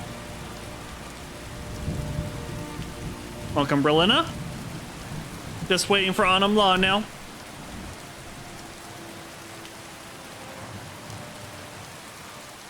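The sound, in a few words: rain in a video game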